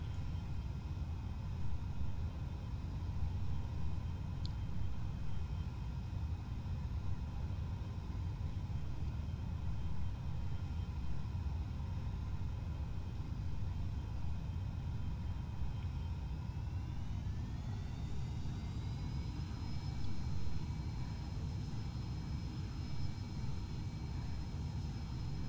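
Steady propeller aircraft engine drone in a flight simulator game, flying a route from Gibraltar to Tangier; continuous loud rumble with a rising whine near the end as throttle increases, no talk.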